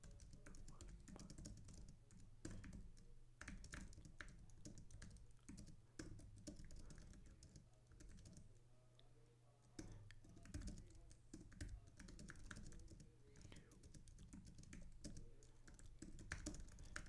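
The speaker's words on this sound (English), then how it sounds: "I'm going to type this into you." Keyboard typing at a computer during a live stock-trading stream: faint, continuous rapid clicking of keys with brief pauses, quiet throughout.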